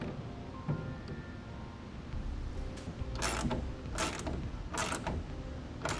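A clamp on a TruXedo Lo Pro soft roll-up tonneau cover is tightened down on a 2016 Chevrolet Silverado bed. It gives close ratcheting creaks and scraping metallic turns in short bursts, with no talk.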